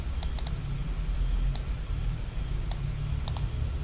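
A computer keyboard is tapped in short, sparse bursts of a few light clicks each, separated by pauses, over a steady low background hum.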